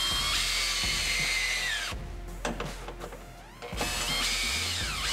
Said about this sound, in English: we go ahead and snug those rear bolts down